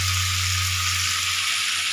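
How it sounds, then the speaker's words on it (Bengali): Flat beans lightly fry in a pan, giving a loud, even, continuous sizzle close by, with a steady low electrical hum underneath. "আমি সিমগুলি একটু হালকা ভেজে নিচ্ছি"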